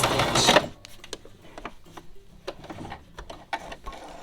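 A sewing machine back stitching a dish towel, its needle and mechanism giving a close, brief loud whir and then a run of light ticks and clicks at an uneven pace.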